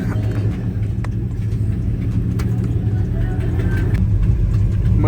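A car engine idles with a low, steady rumble close by while the car is moved, sitting beside an Impala SS with a subwoofer setup, and a few faint clicks and knocks appear over it.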